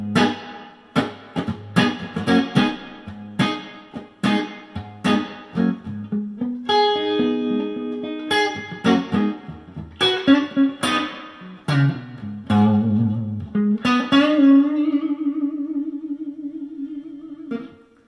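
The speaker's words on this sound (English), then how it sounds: "Now we are at plate reverb." Electric guitar played through an Electro Harmonix Holy Grail Max set to plate reverb, blend at 9 and time at 10 o'clock: a run of picked notes and chords, then a sustained note that rings out with a smooth reverb tail.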